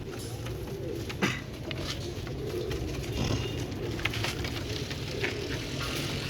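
Pigeons coo softly and repeatedly against a steady outdoor background hum, with occasional faint clicks and rustles.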